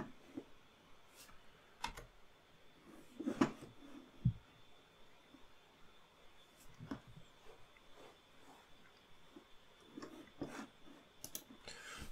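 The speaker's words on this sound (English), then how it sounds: "I'm going to use the keyboard and hit Next" Scattered key presses on a computer keyboard while setting up a domain controller in a server console, irregular soft clicks and taps spaced apart over a quiet room background.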